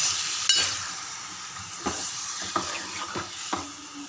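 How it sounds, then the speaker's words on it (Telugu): Washed chicken is stirred into masala frying in a pan, giving a steady hiss and sizzle broken by several distinct scraping strokes of the stirring, with no talk. "కడిగి పెట్టుకున్న చికెన్ వేసుకోవాలి. బాగా కలుపుకోవాలి."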